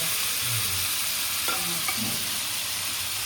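Mutton sizzles steadily on a hot tawa with spices for an Agri-style tawa sukka mutton, a continuous close frying hiss broken by a few soft scraping stirs of the spoon.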